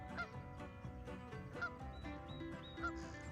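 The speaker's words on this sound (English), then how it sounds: "Oh, there's some wood ducks." Faint honking and squealing calls from wood ducks at a waterfowl spot, a few short bird cries over a steady low background.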